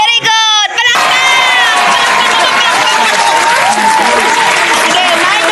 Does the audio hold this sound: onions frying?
no